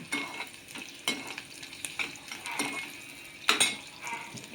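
Green chillies sizzle and crackle in hot oil in a pan for moen dal with raw mango, with steady frying hiss, bursts of spattering and occasional stirring scrapes, close up and with no talking.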